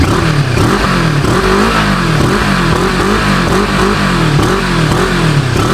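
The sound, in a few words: Moto Morini scrambler twin-cylinder engine revving, exhaust note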